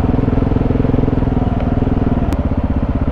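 A KTM 690 Enduro single-cylinder motorcycle cruises in third gear, its engine giving a steady, loud, close throb with a regular pulsing rhythm throughout, and no talk over it.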